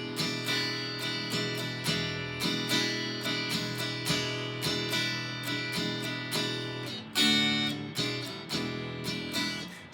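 Guitar plays the verse rhythm pattern of a song, with repeated syncopated chord strums in a steady, close, moderately loud groove and a brief pause near the end.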